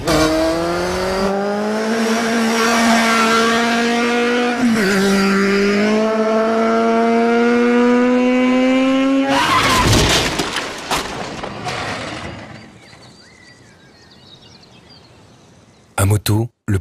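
A motorcycle racing at speed, its engine screaming loud and close, the pitch climbing steadily through the gears with a brief dip at a shift. It then cuts to a quieter passage, with short bursts at the very end.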